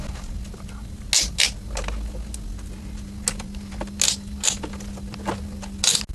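Horizontal fixings on an FTTH fibre cable riser being tightened by hand, giving sharp clicks and small mechanical creaks in irregular bursts over a low steady background, close up and without speech.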